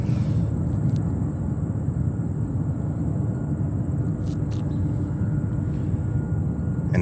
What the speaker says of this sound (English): Triple 7-300. Beautiful sound. I pumped it up for you a little bit.